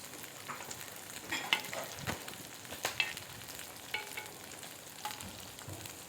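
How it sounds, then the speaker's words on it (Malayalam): Chicken pieces frying in a pan for Malayalam-style dragon chicken noodles, a steady close sizzle broken by occasional stirring clatters and crackles, with no talking. "അതിനകത്തിട്ട് ചിക്കൻ വറുത്തെടുക്കാം."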